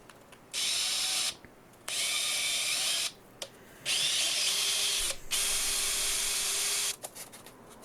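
A power drill bores holes for power cable conduits through an N-scale model railway diorama module, running in four separate bursts with quiet gaps between them.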